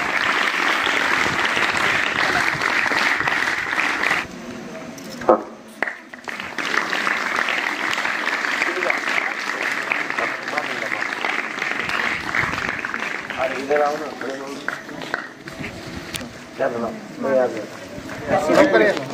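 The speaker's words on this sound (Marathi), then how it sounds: "3 टाळ्या" A school audience at a felicitation ceremony claps in sustained bursts, loud dense applause that drops away and returns, mixed with crowd chatter and voices talking over and between the clapping.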